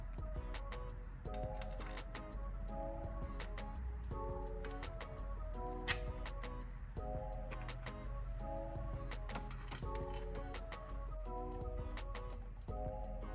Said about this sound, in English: And then we'll start dropping some bolts in.